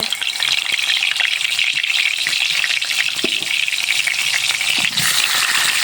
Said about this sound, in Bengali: মাছটা ভেজে নেব, উল্টো কিন্তু ভেজে নেব